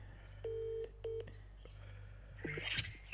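Phone keypad dialing tones, two distinct beeps spaced about half a second apart, followed by a short tone and faint rustling near the end, quiet room background without speech.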